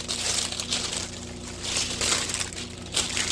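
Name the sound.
plastic shrink wrap crinkling around a gift tray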